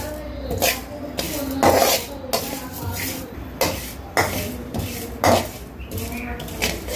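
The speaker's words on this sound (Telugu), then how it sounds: "ఇప్పుడు కొన్ని మెంతులు, ఇప్పుడు కొద్దిగా జీలకర్ర, ఇవి కూడా మంచిగా వేయించుకొని" Fenugreek and cumin seeds roast in a pan for a spicy curry leaf powder, with a close, irregular series of scraping and rattling strokes as a spoon stirs them against the metal.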